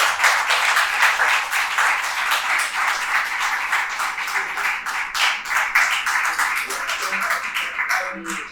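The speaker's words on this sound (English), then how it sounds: "please give a round of applause to our esteemed panelists" An audience at a funding panel event applauds the panelists with sustained, dense clapping from many hands throughout, moderately loud, with a voice briefly speaking near the end as the clapping fades.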